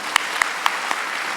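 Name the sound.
audience applause for the teachers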